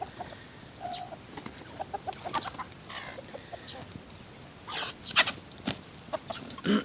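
Chickens being fed rose chafer beetles cluck and squawk in short irregular bursts nearby, fairly quiet, with scattered rustling and no clear talk.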